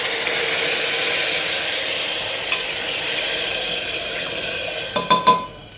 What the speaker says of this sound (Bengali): তো এরপর আমি জল ঢেলে দিচ্ছি।